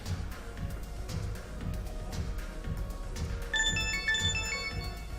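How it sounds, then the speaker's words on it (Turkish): A mobile phone ringtone starts partway through, a bright repeating melodic pattern ringing over steady room noise and soft background sounds. "Telefonun çalıyor."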